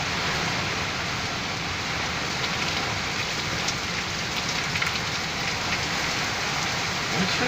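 Steady, heavy rain pours during a severe, windy storm at night near a street, a dense continuous hiss with no pauses.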